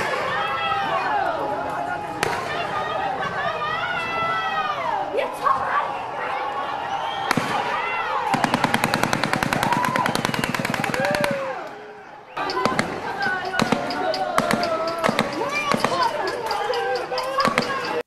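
Rapid bursts of gunfire in Indian news footage, a dense stretch of sharp repeated shots in the middle, with people talking before and after.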